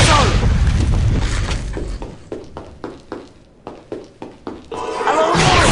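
Repeated spell casts of Depulso in the Harry Potter and the Prisoner of Azkaban PC game, about eight sharp, booming hits at a steady rhythm. Dense game noise and voice sound surround them at the start and end.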